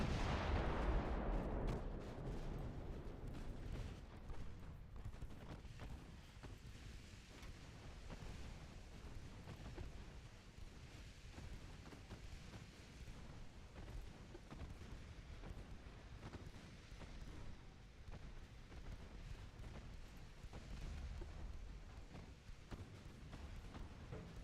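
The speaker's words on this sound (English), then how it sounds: "let's turn all guns to firing at these battleships" Battleship guns firing in the naval warfare game Ultimate Admiral Dreadnoughts: a heavy opening boom fading into a continuous rumbling roar of distant gunfire and explosions, steady and dense throughout with no talk.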